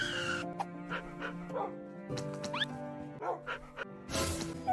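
A dog whimpers and yips in short, plaintive bursts within a Minecraft animation, with soft background music running under the cries throughout.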